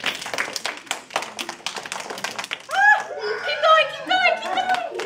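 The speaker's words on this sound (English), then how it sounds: "Alright, more! Clap some more!" Toddlers at a picture-book story time clapping: a run of scattered, uneven hand claps, then an adult voice talking over light background noise.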